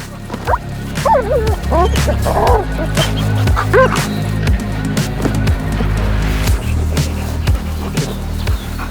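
Police service dog barking, yipping and whimpering during bite training at a police canine centre, a close, insistent run of sharp barks and whines with some background noise.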